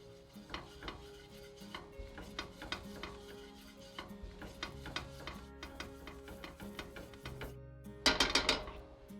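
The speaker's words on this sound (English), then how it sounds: "Let's give this a really good stir with all that oil." A utensil stirs ground nutmeg and garam masala through oil in a pan, giving a run of close, light rhythmic scrapes and taps against the pan, ending in a brief louder rattling scrape.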